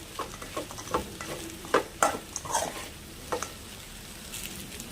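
Fried soya chunks (meal maker) stirred into noodles in a pan, with a steady close scraping and tossing and a soft sizzle underneath, punctuated by a few sharper clicks of the utensil against the pan.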